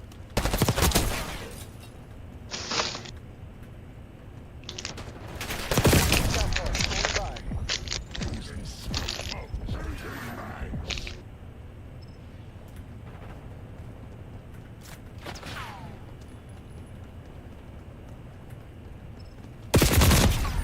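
Gunfire in a first-person shooter game comes in several sharp bursts spread across the stretch, loud and close, with quieter game ambience filling the gaps between shots.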